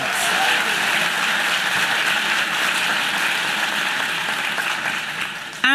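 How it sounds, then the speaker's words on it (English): Audience applause at a literary festival opening event, a steady broadband wash of clapping from a crowd that holds evenly throughout and ends abruptly. "let's give a round of applause to Sarah Moriarty and all of her team"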